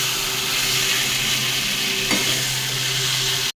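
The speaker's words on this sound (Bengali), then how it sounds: "চিকেনটা ভালোভাবে কষানো হচ্ছে" Chicken pieces sautéed in oil in a pan for a chicken curry, giving a steady loud sizzle with a constant stirring scrape and a brief sharper clatter midway, no voices.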